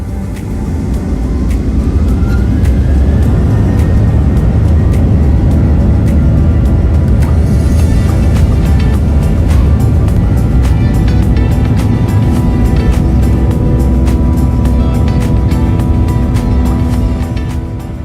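A Garuda Indonesia Boeing 737-800 taking off from runway 03 at Sentani Airport, heard from inside the cabin: a loud, steady engine roar and rumble that swells and holds through the takeoff roll.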